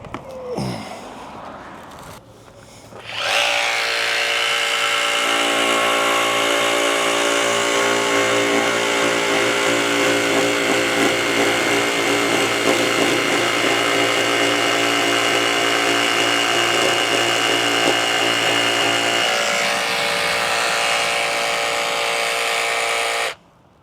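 A Makita XGT 40V 7 1/4 inch cordless rear handle saw cuts through lumber. After a brief start, a loud, steady high whine holds for about sixteen seconds close up, then stops abruptly.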